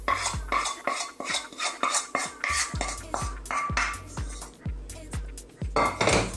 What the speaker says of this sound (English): I'm going to give this a mix